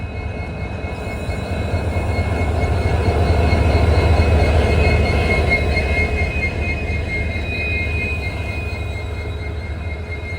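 An Indian express train from Yesvantpur to Sindhanur hauled by a WDP4D or WDP4 diesel locomotive, a loud deep engine drone and rolling rumble that swells to a peak midway and stays strong for about ten seconds, with no voices.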